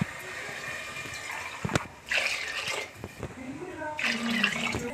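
Water poured into a cooking pot for tomato biryani in two short gushing bursts, with quieter clinks and stirring between them, fairly close and moderate in level.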